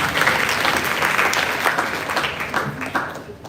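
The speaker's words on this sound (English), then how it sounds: "so a big round of applause for them." Audience applause at the 78th Inter-Martiniere school debate at La Martiniere, a dense, steady wash of clapping from a large crowd that holds throughout and thins slightly at the end.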